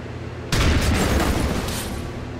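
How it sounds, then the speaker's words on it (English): A single heavy shotgun blast in the video game XCOM 2 booms out suddenly after a quiet lead-in, then rings and decays slowly with a long rumbling tail. "And we have a shotgun to the head."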